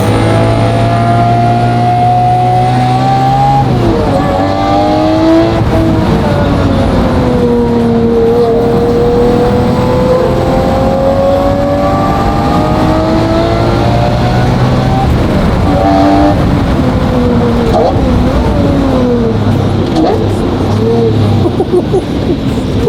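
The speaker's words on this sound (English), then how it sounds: "how different this car sounds with this engine in this firing order over an Aventador engine" A straight-piped Lamborghini SVJ V12 revs hard, its loud, close engine note sweeping up and down through repeated climbs and drops, with a brief lull partway through before it builds again.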